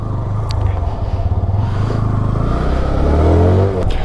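A low-cc motorcycle accelerating on a wet road during an ABS test, engine note rising and revving steadily to about 50, loud and close with faint scraping.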